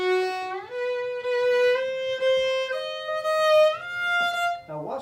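A bowed string instrument plays a Bartok passage, a slow series of sustained notes stepping between pitches, close and clear, ending on a brief low note.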